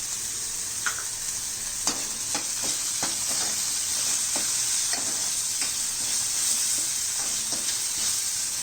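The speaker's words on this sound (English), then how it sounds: "While the onions are getting cooked, I'm also adding in potatoes which are peeled and diced." Onions and peeled, diced potatoes frying in a pan for sprouts masala curry, a continuous hissing sizzle broken by a series of spatula scrapes and taps while stirring, close and even, with no talking.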